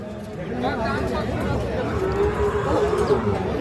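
A five-month-old Sahiwal breed bull calf moos at a cattle market amid a busy crowd, the call partly buried under steady chatter and nearby voices.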